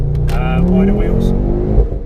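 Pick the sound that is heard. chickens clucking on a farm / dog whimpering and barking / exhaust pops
exhaust pops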